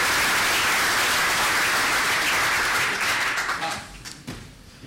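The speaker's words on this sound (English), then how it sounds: "I do allow for an applause for him." A conference audience at TNC2014 applauds with dense, steady clapping that fills the room, then thins out and fades to scattered claps near the end.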